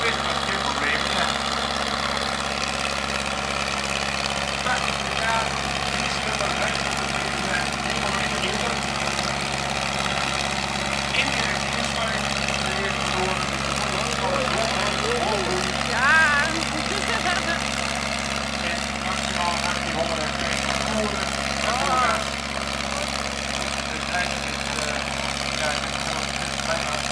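Tractors running at low engine speed at a fuel power event, a steady, droning engine hum with deep low tones continuing throughout, with voices talking over it.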